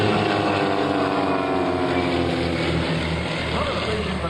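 Aerobatic aircraft from the Split Image Team flying a maneuver at the 2003 NAS/JRB Willow Grove Air Fest, a steady, loud, broadband engine roar that holds at an even level throughout.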